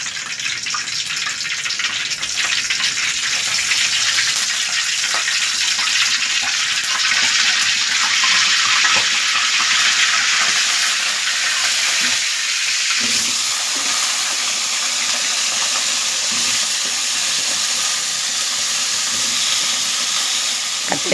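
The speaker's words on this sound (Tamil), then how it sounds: "கொஞ்சம் கடுகுளுத்தம் பருப்பு போட்டிருக்கேன்." Mustard seeds and urad dal fry in hot oil with a loud, continuous hissing sizzle that holds steady throughout, with faint crackles underneath.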